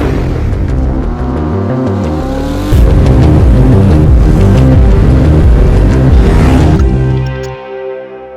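A 2018 Ducati Monster 821 motorcycle in sport mode revs hard and climbs up through the gears. Its engine roars loud and close, holds steady through a shift and then drops away toward the end.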